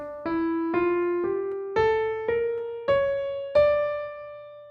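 A harmonic minor scale played note by note on a keyboard, seven clear plucked-sounding tones rising steadily, each struck and left to ring briefly.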